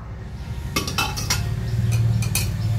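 Metal utensils clink and scrape against dishes while mung dal with taro is served, a cluster of bright clinks followed by a few more scattered taps, close and clear without talk.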